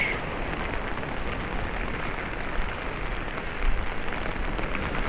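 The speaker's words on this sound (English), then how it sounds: "We can always do with the rain though." Steady rain falls at a stormy Paphos, Cyprus seafront in April, a dense, even hiss with a low rumbling undertone and one brief louder patter near the end.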